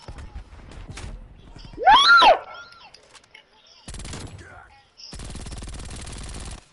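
A Mac-10 submachine gun in a zombies video game rattles off two rapid bursts of automatic fire, preceded by a shrill whooshing shriek and other scattered game effects.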